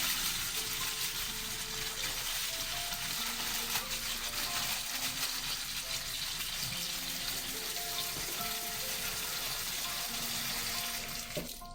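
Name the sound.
water poured onto peanuts in a pot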